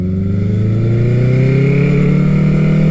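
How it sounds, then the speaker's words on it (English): A motorcycle with a Mac aftermarket exhaust burbles as it slows while being ridden. The engine sound is close and loud and slowly falls in pitch through a short stretch, with no talking. "You can hear a little bit of the burble from the Mac exhaust as I decelerate."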